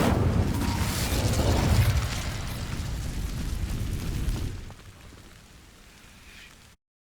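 The Incendio fire spell in Hogwarts Legacy sets dry vines alight, a loud whooshing burst of flame that crackles and roars for several seconds before dropping to a quieter, fading burn.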